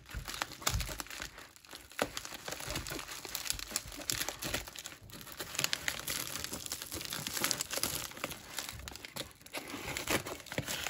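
A mailed package being cut open at one end, with close crinkling and crackling of plastic or paper wrapping that continues in uneven bursts throughout.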